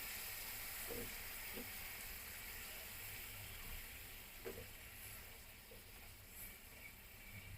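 Spice paste sizzles and hisses in hot oil while being cooked down for aloo kochu, a soft continuous frying crackle with a few faint stirring knocks, heard quietly without talk.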